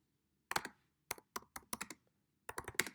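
Keys clatter on a computer keyboard in quick irregular bursts of sharp clicks with short pauses between, close up in a quiet room with no talking.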